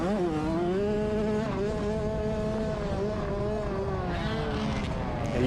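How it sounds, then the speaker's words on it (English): Race car engine held at high steady revs on a straightaway at the Wayne County track, a continuous loud buzzing drone with slowly wavering pitch throughout. "let's really listen to the engine noise on this straightaway here."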